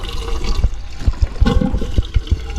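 Fresh fuel is poured into the tank of a Foxbody Mustang GT convertible, a brief gurgling slosh of liquid with small knocks, heard close.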